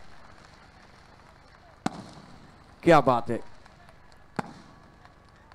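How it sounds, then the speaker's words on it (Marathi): Fireworks go off at the opening ceremony of the Chiplun Nagri Premier League 2024 cricket tournament, with two sharp separate bangs cracking over a quiet background and a brief spoken exclamation between them. "फटाक्यांची आतषबाजी आपण पाहू शकता"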